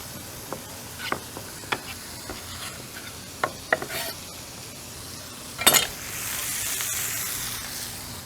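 Thinly sliced garlic goes into a cast iron pot amid a series of light taps and clicks, then a sharp clatter gives way to a steady hissing sizzle that lasts to the end.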